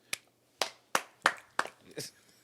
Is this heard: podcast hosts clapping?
yes